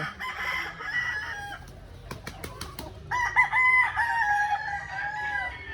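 Roosters crow loudly in long, drawn-out calls, one early and another after a brief flurry of clucks and wing sounds, close by.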